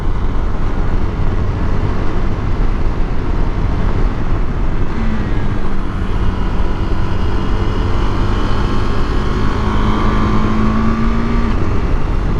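KTM 390 Adventure single-cylinder motorcycle engine droning loudly and steadily, with pitch rising and shifting as the quickshifter clicks through gear changes while riding leaned over on dry valley roads, wind rush throughout.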